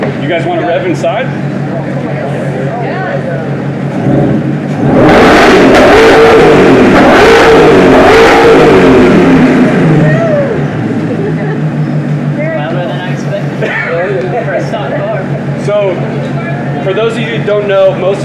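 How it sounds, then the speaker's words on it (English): A Ford Mustang GTD's engine revs indoors at a museum reveal event, a loud surge of roaring exhaust for several seconds that rises and falls back to idle, with people talking and cheering around it. "Oh, you guys want to rev inside?"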